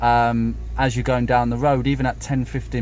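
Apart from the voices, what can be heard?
No everyday noise stands out behind the speech.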